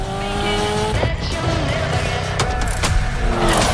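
A Lamborghini driving in The Crew Motorfest, its engine roaring steadily close up with rising and falling gear tones and tire noise throughout.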